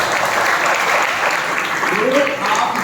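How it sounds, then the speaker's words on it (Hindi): A college audience at a lecture in Bhilai claps steadily throughout, a thick wash of applause with a voice briefly rising near the end. "एक बार अपने लिए ताली बजाइए।"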